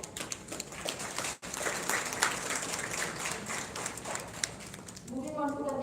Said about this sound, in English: I would like to have a big round of applause for Ms.